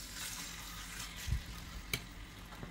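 Chicken sizzles on an oiled grill pan as a steady soft hiss, fairly faint and close, broken by a couple of brief thumps and clicks as the pieces are moved.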